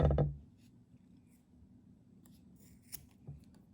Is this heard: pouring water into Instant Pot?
no